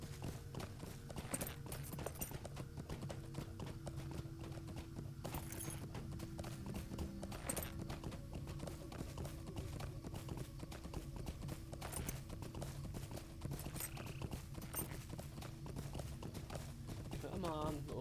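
Steady clip-clop of horse hooves in the online game Lord of the Rings Online (LOTRO), a continuous rhythmic trotting over a constant game soundscape and music bed, with a voice speaking over it at times.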